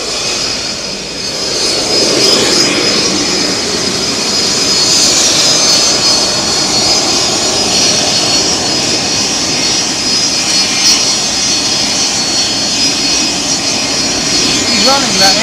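Cargo aircraft engine running during Christmas cargo operations at East Midlands Airport, a steady loud broadband roar with a high whine, continuous throughout, with some speech faintly audible.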